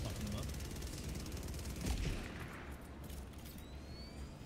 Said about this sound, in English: Somebody's turret is fucking them up.